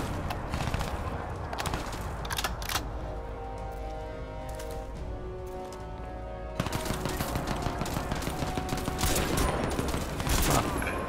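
Gunfire rattles in Crysis 2, dense rapid bursts of automatic shots that pause briefly midway before resuming even louder and faster.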